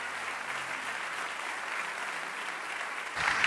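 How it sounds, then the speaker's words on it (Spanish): A church congregation applauds together in steady, sustained clapping that fills the room and swells louder near the end. "Denle un aplauso a Dios."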